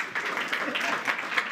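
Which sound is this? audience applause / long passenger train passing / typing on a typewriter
audience applause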